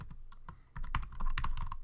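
Fingers type code on a computer keyboard in a quick, uneven run of close, soft key clicks. No one speaks.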